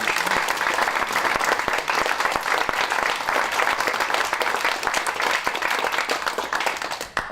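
An audience claps after a panel discussion on homelessness and the twenty-first-century city, a dense, steady round of applause running the whole time at even loudness with no voices over it.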